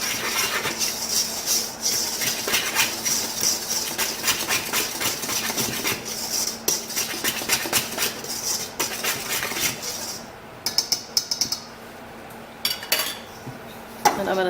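Salt, baking soda and baking powder whisked in a bowl, giving fast continuous metallic clinking and scraping of the whisk against the bowl for most of the clip, then a few sparse taps near the end.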